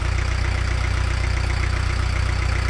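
A narrowboat's diesel engine runs hot after a crossing on the Ribble Link to the Lancaster Canal, a loud, steady, close thumping drone with an even rapid pulse and no talk over it.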